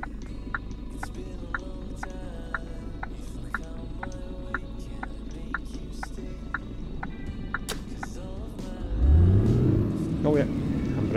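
A heavy truck's engine in the On The Road Truck Simulator game cranks and fires up near the end, a low rumbling rise that swells over a quiet idle-like cab ambience, with soft clicks earlier.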